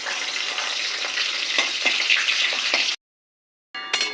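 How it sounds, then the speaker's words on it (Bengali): Lentil dumplings (bori) frying in hot oil in a pan, a close continuous crackling sizzle with a few stirring clicks, cut off by a short silence before the sizzle returns briefly. "বড়িগুলো আমার ভাজা হয়ে গেছে"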